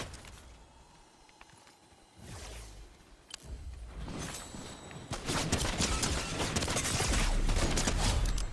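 Gunfire in a video game, starting as scattered shots and building into a loud, dense barrage of rapid overlapping bursts toward the end.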